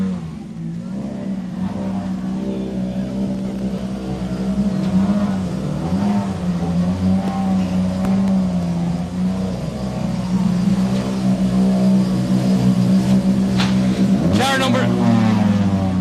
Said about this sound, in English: the Ford Fiesta.